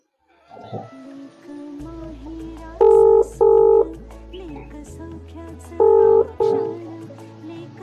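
A phone keypad beeps through several dialing tones in short groups over a steady low hum, with soft button clicks in between.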